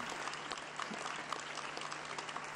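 Rome's mayor Roberto Willitri and the congregation applaud the Pope, a steady, dense crowd clapping that fills the whole moment at even loudness with no voices above it.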